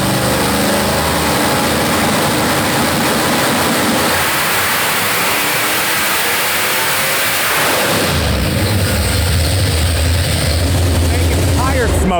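A car engine roaring at high load on a dyno, loud and continuous, the pitch climbing and then dropping away as it is backed off near the end.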